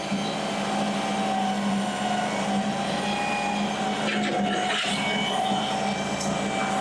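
A Chinese mini skid steer runs with its bucket lifted to full extension, giving a steady, loud mechanical drone with a constant hum and a brief thump near the end, no voices.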